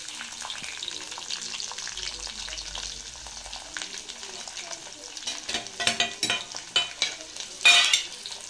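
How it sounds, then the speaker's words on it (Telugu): Mustard seeds, cumin and onion frying in hot oil in a bowl, a steady sizzle with stirring scrapes that grow louder and more clattery toward the end, with no talk. "బౌల్ పెట్టుకొని ఆయిల్ పోసుకొని కొద్దిగా ఆవాలు, జీలకర్ర, ఆనియన్,"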